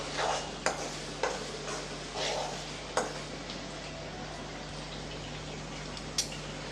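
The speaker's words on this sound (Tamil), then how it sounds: "இப்போ தயிர் சேர்த்து நல்லா கொதித்து எண்ணெய் நல்லா பிரிஞ்சு விட்டுச்சு இப்போ லேசாக கலந்து விட்டுறலாம்" A potato curry with curd simmers in a pan while a spoon stirs it in a few soft, scraping strokes over a low bubbling hiss, a light knock sounding now and then.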